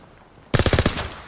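A short, close burst of rapid automatic gunfire, about half a dozen shots in quick rhythm, fired in a World War II battle in the Call of Duty WWII campaign.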